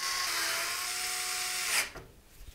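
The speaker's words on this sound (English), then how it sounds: "we're going to secure it into place with 9 of the motherboard screws from the case accessory box" An electric screwdriver drives motherboard screws into a Montech Air 903 Max PC case, a steady high whine lasting nearly two seconds before winding down into a short clatter, close and clear with no voices.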